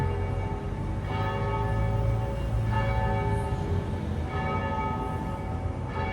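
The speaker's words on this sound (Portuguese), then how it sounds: "tá tocando 24 badaladas de todas as horas do dia" Church bells ring the hours in repeated, resonant strokes roughly every second or so, their tones overlapping and sustaining with no talking.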